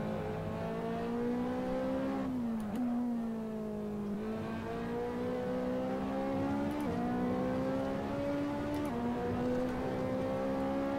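A Ferrari 458 Italia engine in Assetto Corsa on a tourist lap, its tone rising under throttle and dropping sharply at each of several gear shifts, steady and moderately loud with no talk.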